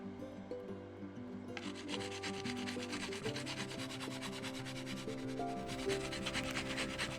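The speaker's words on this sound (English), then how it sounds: "I use a 200 grit fingernail file and a nail buffer sponge to go across the top of the design to remove any ink or pencil marks" A 200 grit fingernail file rubbed across a carved gourd surface, quiet steady scraping strokes close up, repeated in a rapid rasping rhythm with no talking.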